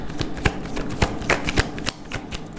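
Tarot cards shuffled by hand in a quiet room, a run of crisp riffling snaps and soft slaps in an irregular rhythm, close and fairly loud with no talking.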